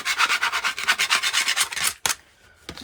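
Card stock runs through a trimmer in a close, rapid series of scraping strokes, then stops after two final short rasps.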